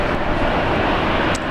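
An Air New Zealand Airbus A321neo airliner takes off at Brisbane International Airport, its engines giving a steady, loud broadband roar that holds evenly throughout with no talk over it.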